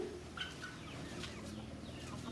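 A flock of about twenty native chickens kept at a house, clucking softly and intermittently at a distance over a constant background hum.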